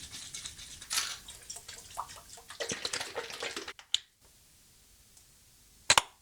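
RazoRock aftershave splash slapped and patted onto the face by hand, a burst of wet splashing and slapping near the mic, then near silence, a sharp clap at the end.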